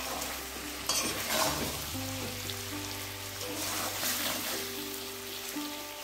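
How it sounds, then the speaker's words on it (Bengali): Egg curry cooking in a pan on a low flame with no water added makes a steady, gentle sizzle with faint stirring noises, close by and fairly quiet, with no talking. "এখানে একদম লো ফ্লেমে রান্নাটা করে নিচ্ছি"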